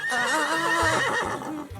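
A horse, one of the wild horses of Mongolia, gives a single loud, close whinny with a quavering, wavering pitch that falls away near the end, heard alone.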